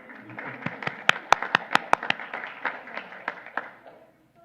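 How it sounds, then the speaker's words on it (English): A small audience at a school board meeting claps for young scholars, a brief round of applause with distinct individual claps that swells and then fades out. "we could give them a round of applause"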